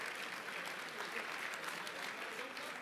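An audience at a conference applauds a group of financial institution and community benefit agreement representatives, a steady dense patter of clapping from a crowd lasting throughout, heard from some distance.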